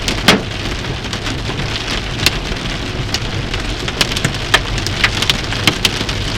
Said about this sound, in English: Ah, hail.